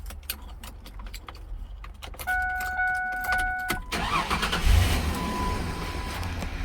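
A car engine cranks and fires up after its ignition coil was replaced and the firing order corrected, following a jangle of keys in the ignition; the engine catches and settles into a steady idle close by, with no talking.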